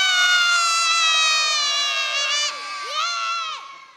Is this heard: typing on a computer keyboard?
no